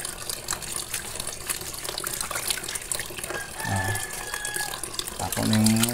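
Tap water runs and splashes steadily as avocado leaves are rinsed for an herbal preparation, a close, continuous gush with brief shifts in flow, while a voice speaks over it.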